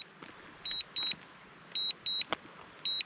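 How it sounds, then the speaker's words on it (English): A drone returning to home beeps outdoors at the fairy pools in Scotland, five short, clear electronic tones in an irregular sequence over faint ambient noise, with no talking. "That beeping is just it's just my drone returning to home."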